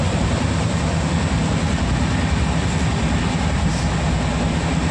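Inside a crowded reserved passenger coach at night, the train gives a loud, steady rumble and roar of wheels and motion, filling the whole stretch without pause.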